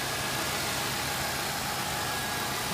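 The Chevy engine of a Buick Roadmaster wagon idles with its hood open, a steady, close, broadband hum with no speech.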